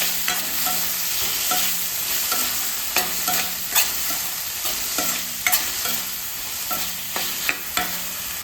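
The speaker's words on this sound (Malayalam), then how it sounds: "വഴറ്റിയെടുക്കാം" Chopped onions and two medium tomatoes sizzle in a pan for okra curry while a spoon stirs them, steady frying hiss broken by frequent scraping strokes against the pan, close up with no talking.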